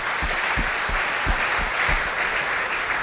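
Audience applause at a book launch event rings out as a dense, even patter of many hands, with a few heavier claps close by, sustained throughout.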